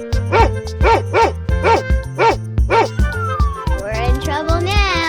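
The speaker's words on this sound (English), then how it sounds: "dog," A dog in a 3D animal slide video game gives a run of six short, evenly spaced barks over a bouncy game music beat, then a drawn-out whining, whimpering call.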